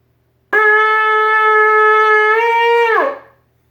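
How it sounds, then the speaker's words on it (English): A single long, steady shofar blast (tekiah) holds one tone for about two and a half seconds, then bends downward and fades out. No other sounds accompany it. "The first one is a tekiah."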